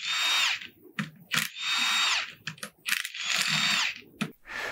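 Power tool whirring in repeated long bursts while removing the ring gear bolts from a Dana 44 axle carrier, with short metallic clinks between runs, close and fairly loud.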